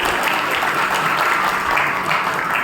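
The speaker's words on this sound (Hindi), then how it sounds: "जोरदार ताली बजाएंगे उनके लिए।" A crowd applauds steadily and energetically, dense clapping filling the whole stretch without pause.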